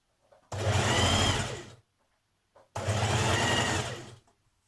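A sewing machine hems the outer edge of an unlined coat in two steady runs of fast stitching, each about a second long, separated by a brief pause, close and clear with no voices.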